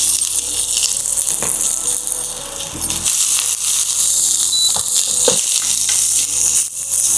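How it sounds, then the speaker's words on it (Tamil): Chopped onions fry in hot sesame oil in a pan, a steady close hiss and sizzle that runs without a break, with faint stirring clicks now and then. "நல்லெண்ணெய் சூடானதும் நம்ம நறுக்கி வச்சிருக்க வெங்காயம் சேர்த்துக்கலாம்."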